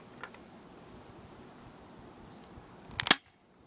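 A golden spring airsoft Colt M1911A1 pistol fires a single sharp, close shot near the end, after quiet handling noise, with a brief snap and no talking.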